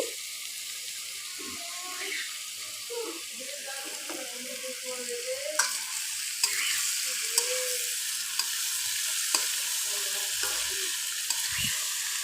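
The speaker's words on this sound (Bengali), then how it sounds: "একটু নেড়ে চেড়ে দিয়ে কায়তার সাথে ডিমটা খুব ভালোভাবে মিশিয়ে দিচ্ছি" Beaten egg frying in a pan with kaytha, stirred now and then, giving a steady soft sizzle with occasional scraping clicks and light knocks of the utensil, close and unaccompanied by speech.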